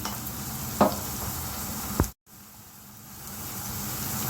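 Ginger-garlic paste fries with onions and green chillies in a pan, a continuous sizzle with a couple of sharp stirring knocks, briefly cut to silence before the frying hiss returns.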